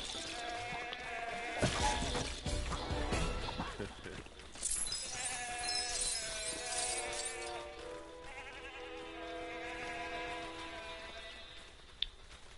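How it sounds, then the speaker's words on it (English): Goats bleat in the Lego Worlds video game, several wavering cries repeating over a faint, steady game background, with a few sharp clattering hits and a speaking voice at times. "Okay, so we will drop some goats."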